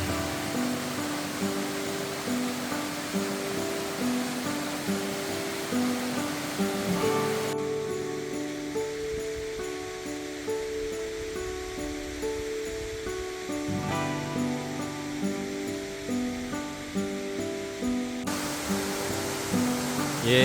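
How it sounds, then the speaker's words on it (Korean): Eun Falls on Naeyeonsan in Pohang pours through a narrow rock channel, a steady broadband rush of falling water that holds evenly throughout, close and fairly loud with no voices. "이 가느다란 통로를 통해서 물줄기가 이렇게 폭포수가 돼서 떨어지고 있습니다."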